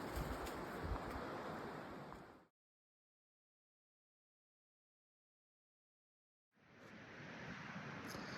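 Wind outdoors along the middle fork of the Gila River, a broad rushing hiss that cuts out completely for several seconds and then returns just as strongly.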